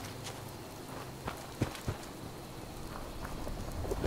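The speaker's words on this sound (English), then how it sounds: "It's raining." Light rain falls outdoors in Appalachia as a faint, steady patter, with a few sharper drops tapping nearby.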